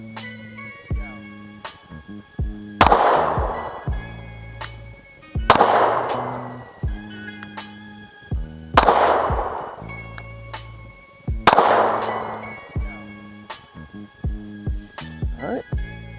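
A SIG P365 pistol fires at a target, four loud, evenly spaced shots about three seconds apart, each with a ringing decay over a steady tonal background.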